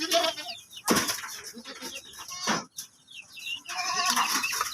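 Goats with newborn kids on a family farm bleating in several short, uneven calls, fairly close and alone, separated by brief pauses.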